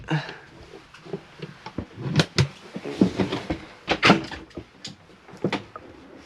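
Wooden clunks, knocks and light rattles of a cupboard door in an Auto Trail Grand Frontier GF80 motorhome being handled at close range, irregular and moderately loud, with no talking.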